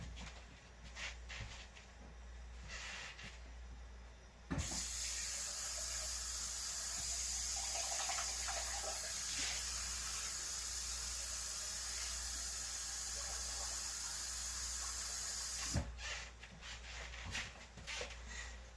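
Water runs steadily from a tap for about ten seconds, a bright continuous hiss that starts and stops abruptly, with faint kitchen clatter around it.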